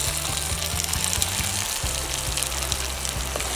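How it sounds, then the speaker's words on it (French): Spices and onions frying in oil for a chickpea curry, a close, steady sizzle and crackle with a low rhythmic ticking underneath and no voices. "Regardez-moi ça, vous faites bien griller vos épices."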